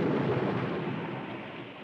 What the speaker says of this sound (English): One night, there was a terrible storm.